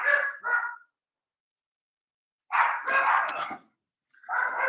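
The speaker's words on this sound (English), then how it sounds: "The dogs are attacking Bart." Dogs on the attack bark and snarl in three loud, close bursts separated by brief silences.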